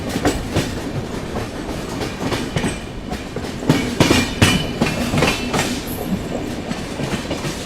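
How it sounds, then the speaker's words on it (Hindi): A Rajdhani Express with two engines, one at each end, rolls into Bhusawal Junction, its steady wheel rumble and clickety-clack on the rails sounding loud and close throughout, without any talk. "ट्रेन अपनी जो है भुसावल जंक्शन पहुंच रही है दोस्तों"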